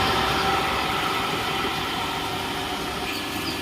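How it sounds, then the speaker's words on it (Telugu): A large motor at a water purification plant hums in a steady, loud, broadband drone that holds evenly throughout with no talking. "ఇప్పుడు ఈ పెద్ద మోటార్ అనేది ఆన్ చేసుకోవాలి"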